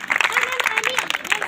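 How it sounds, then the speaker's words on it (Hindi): An indoor audience claps after a group game, a brief burst of mixed hand claps and crowd noise, with a voice talking over it. "ताली बजाइए इस गेम के लिए आप लोग"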